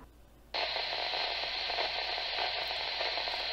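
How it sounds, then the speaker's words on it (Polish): Satellite communications radio receiver tuned to a frequency carrying only the bare carrier, a steady hiss of static that switches on abruptly after a brief quieter moment and holds evenly throughout. "w tej chwili słychać tylko nośną."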